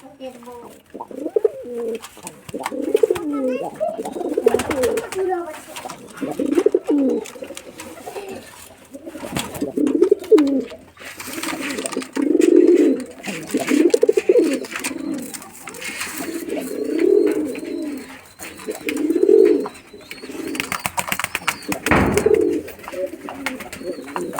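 Male pigeons cooing in repeated low, throaty rolling phrases, several birds close by, with someone talking over and between the calls.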